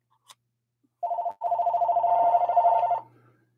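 A telephone rings with an incoming call during a live half-dollar coin hunt, two clear electronic ringing bursts with a short gap between them, in otherwise quiet surroundings.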